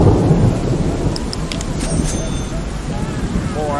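Heavy rain in the video game Drug Dealer Simulator pours as a loud, steady broadband wash, with a few faint higher tones briefly poking through and a voice talking faintly underneath.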